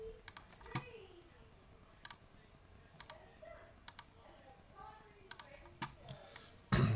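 Sparse clicks on a computer keyboard and mouse while working in Adobe Illustrator, scattered single taps at irregular intervals, quiet and close, with soft speech underneath and a louder thump at the end.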